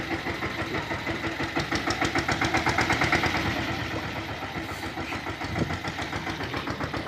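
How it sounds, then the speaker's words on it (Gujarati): A tractor engine runs steadily in an orchard where mango trees are being sprayed, giving off a continuous low knocking chug with a rapid pulsing rhythm that holds close and fairly loud throughout, and no voices are heard over it. "ભાઈ ટ્રેક્ટર ચાલુ."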